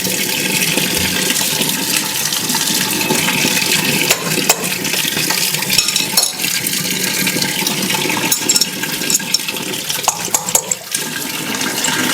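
Kitchen tap running at full pressure, a loud, steady, broadband rush of water that continues unbroken with no speech.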